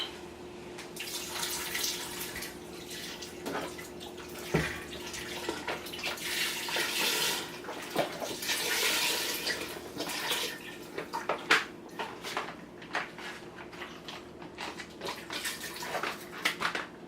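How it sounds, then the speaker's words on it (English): Extra turkey-wing stock, for a stovetop dish with potatoes and tomatoes, pours steadily into a bigger pot with a continuous watery splash and trickle, moderately close, with no talking. "my extra stock I'm going to add because I had to put it in a bigger pot."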